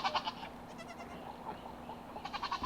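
A goat bleats a few times in a farm pen where several young kids are kept, short wavering calls at close range with no talk over them.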